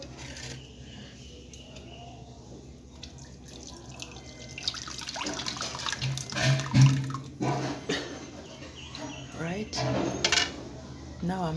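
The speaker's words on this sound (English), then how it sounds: "Now I'm filtering it." Fermented milk is poured and filtered to make bongo in Uganda, heard as liquid splashing and trickling into a container, starting quiet and growing louder, with clinks of utensils.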